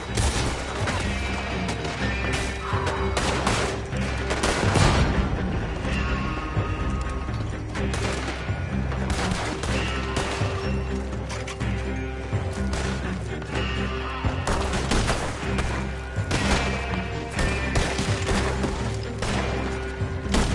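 Rapid gunfire crackles throughout a chaotic shootout in Red Dead Redemption 2, dense overlapping shots and impacts over a constant loud background of game sound and music.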